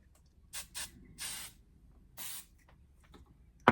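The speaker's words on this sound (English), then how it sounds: "shoot it with some hairspray" Hairspray sprays onto hair in several short, close hissing bursts of varying length with quiet gaps between them, ending with a sharp click.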